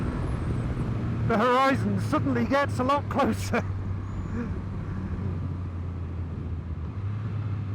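The 2024 Triumph Rocket 3 Storm's triple-cylinder engine rumbles low and steady beneath a man's speech, then carries on alone as a deep, even drone.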